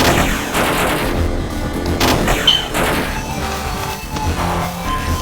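Video game gunfire while ducking and shooting through enemies, a loud dense barrage of booming shots and rapid bursts with explosive blasts, continuous and close.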